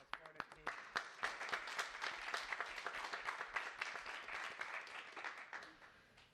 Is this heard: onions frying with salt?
no